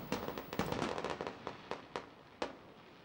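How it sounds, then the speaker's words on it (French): Fireworks set off over the water at Arcachon bay, a dense crackling barrage early on followed by several separate sharp bursts spaced apart, loud and fairly close with no voices. "s'arrêtant seulement pour un feu d'artifice tiré magiquement sur l'eau"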